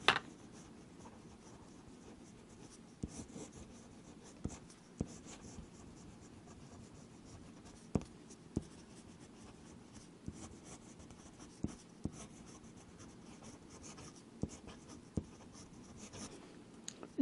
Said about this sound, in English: Do some fast writing.